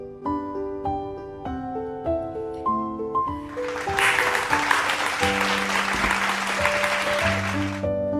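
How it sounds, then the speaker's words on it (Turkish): At a birthday celebration with a Harry Potter cake, a few people clap in a steady burst that swells in over soft keyboard-like music and then stops. "Alkışla tamam mı?"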